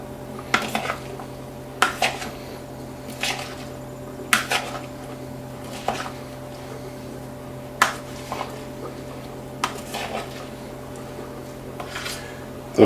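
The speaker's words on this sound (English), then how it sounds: "let's just give all this a stir" A spoon stirs a bottled lime juice mixture in a bowl, making a series of sharp clinks and scrapes against the dish at irregular intervals, close and moderately loud, without talk.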